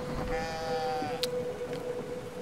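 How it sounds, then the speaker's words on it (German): Sheep bleating in the video game Brothers: A Tale of Two Sons, a drawn-out wavering bleat alone against soft background ambience, followed by a faint sharp click. "Ach, diese Schafe."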